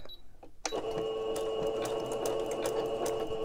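Sewing machine stitching paper ephemera at slow speed: after a quiet start it kicks in with a steady mechanical whir and rapid needle ticking, close and continuous, with no talk.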